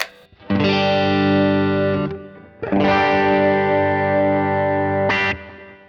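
Sustained electric guitar chords from a Fender Stratocaster's humbucker bridge pickup ring out with a dark, thick tone, played alone in two long strums with a brief gap between them.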